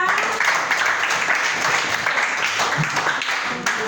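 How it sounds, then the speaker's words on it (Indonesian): A classroom full of students claps, a sustained round of applause at moderate volume. "Tepuk tangan untuk kita semua."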